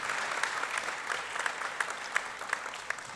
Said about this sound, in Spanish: que le dé un aplauso a Jesús conmigo